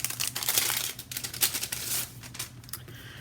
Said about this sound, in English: I've got some stickers again in a white glassine vellum kind of bag.